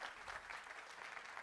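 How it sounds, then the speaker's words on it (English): Brief, faint audience applause at a Google Cloud community tech conference, an even patter of many hands clapping in a room, steady and continuous for a second or so. "a big round of applause to everyone who have seated here"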